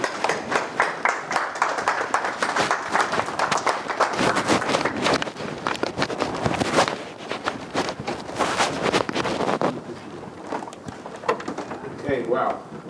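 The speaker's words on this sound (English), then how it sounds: "Round of applause, please." Audience applause for a rabbi taking the stage, a dense, continuous patter of many hands clapping that fades toward the end, with voices rising underneath.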